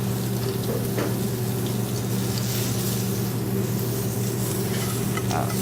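Scallops, shrimp and fish searing in a hot restaurant pan give a steady, close sizzle and crackle with a low hum beneath, continuous and without pause, and no one speaks.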